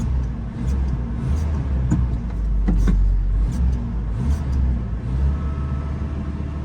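Engine of an old barn-find car with a new muffler runs at a steady idle, a close, continuous low rumble with faint clicks and rattles over it.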